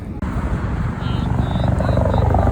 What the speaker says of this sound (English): The scout chopper is flying around.